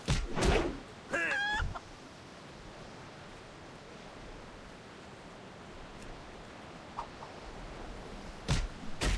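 Chickens cluck in a quick burst near the start of a Turtle WoW video game scene, then fall quiet, leaving a faint hiss of ambient game sound with a few soft clicks.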